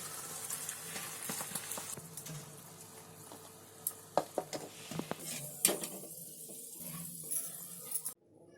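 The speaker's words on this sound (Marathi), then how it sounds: "आता माझी भजी तळून झाली आहे" Whole spinach-leaf bhaji fry in hot oil, giving a soft steady sizzle with occasional sharper pops and light utensil knocks, fairly quiet and close, with no talking.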